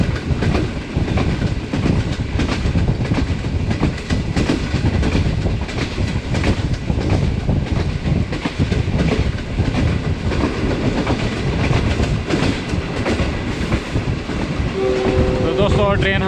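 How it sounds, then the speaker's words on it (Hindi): The Awam Express passenger train with a new rake runs at speed on the Pakistan rail line toward Rawalpindi, producing a continuous loud rumble and rhythmic wheel clatter, with a brief horn tone near the end. "ट्रेन जो है अच्छी रफ्तार से रावलपिंडी और लाहौर कराची की जानिब बढ़ रही है।"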